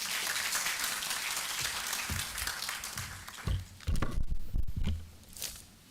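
Applause from the audience at a health leadership summit, a full clatter of many clapping hands that thins out in the second half into scattered claps, a few thumps and shuffling.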